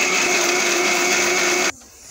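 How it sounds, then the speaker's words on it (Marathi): An electric mixer grinder whirs loudly and steadily, grinding fish curry masala paste, with a high motor whine that cuts off abruptly near the end and leaves a quieter hum. "आता आपण हे मिक्सरमधून काढून घेऊया"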